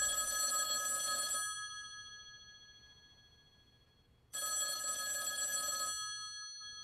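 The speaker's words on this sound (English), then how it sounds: "that phone over there is gonna ring" An old-style telephone bell rings in two long bursts separated by a few seconds of quiet, its bright metallic trill clear and fairly near, with no one speaking over it, in a thriller film scene.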